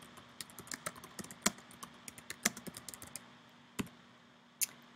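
Typing on a computer keyboard, a close sequence of light key clicks in uneven bursts with a few louder isolated taps, alone in a quiet room without talk.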